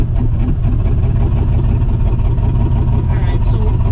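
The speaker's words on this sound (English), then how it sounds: "It almost seems like one whole bank isn't firing." Twin-turbo Ford Ranger engine idling roughly with one bank apparently misfiring, a loud, close, uneven low-pitched rumble and throb that continues without a break, with a voice heard faintly over it.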